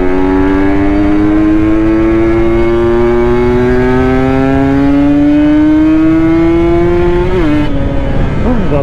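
A Kawasaki Ninja motorcycle engine revs in one long, loud, steadily rising drone that climbs in pitch for about seven seconds, then drops off sharply into a brief lower rumble before picking up again.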